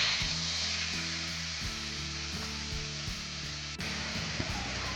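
Red chili paste sizzles in hot oil for a Khandeshi urad dal amti, a steady broadband hiss with faint crackles that lasts the whole time, while soft tonal background music plays underneath.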